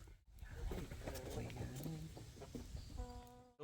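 Chickens near a farm coop: soft, scattered clucks and murmurs mixed with faint rustling and shuffling, fairly quiet, ending with a brief higher call.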